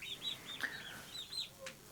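Hedemora chickens cluck softly in a flock, a string of short, mid-level calls and chirps spread unevenly over a couple of seconds with quiet background between them.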